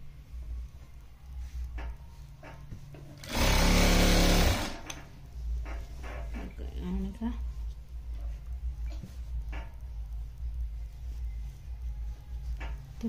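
A sewing machine stitching lehenga fabric runs in one loud, steady burst of a second or so, set against a low background hum and faint handling noises.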